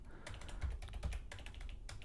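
Quick, light keystrokes on a computer keyboard while entering a search term in the Nano text editor on Linux, a close, quiet burst of uneven clicks with short pauses between clusters.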